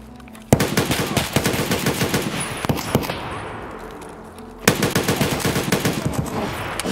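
Gunfire in Escape From Tarkov: rapid automatic bursts of sharp, loud shots, a long burst, a short lull with a ringing tail, then another fast string of shots.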